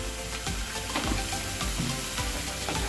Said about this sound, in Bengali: দিয়ে মশলাটাকে ভালো করে কষাবো যতক্ষণ না তেল ছাড়ছে